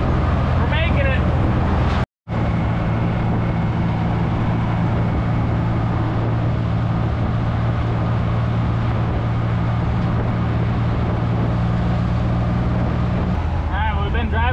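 A Willys CJ5 Jeep cruising at about 45 mph, its engine holding a steady loud drone under constant road and wind roar, with brief voices near the start and end.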